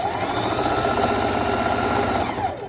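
Sewing machine stitching stretch fabric for a one-piece outfit: a loud, fast, continuous mechanical whirr with rapid needle clatter running unbroken, then easing slightly at the end.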